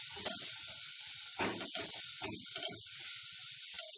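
Green pepper sautéing in hot oil for Egyptian fatteh, a constant bright hiss with irregular popping crackles throughout, close and fairly quiet.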